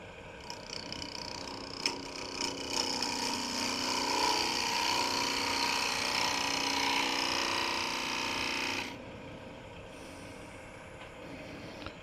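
Wood lathe turning a fork-in-the-limb bowl as the tool thins its wall, giving a steady broadband cutting hiss and whir for about nine seconds that stops abruptly, leaving quiet shop room tone.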